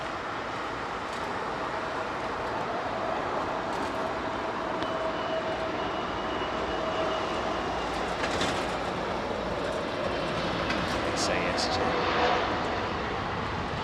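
Jet aircraft engines spooling up at London Heathrow Airport with the planes facing away, a broad steady roar close by that swells slightly toward the end, with a person talking over it.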